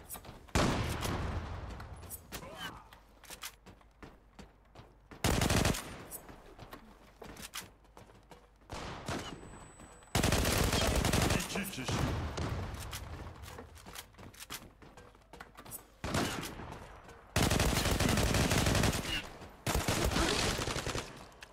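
Automatic rifle fire in the Zula online shooter comes in several loud, sharp bursts separated by quieter stretches with ambient bird cooing, and a player talks faintly between them.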